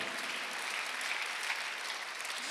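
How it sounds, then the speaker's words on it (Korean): A church congregation at a Sunday worship service claps together in a continuous, even wash of applause, moderately distant and unbroken throughout. "박수하세요."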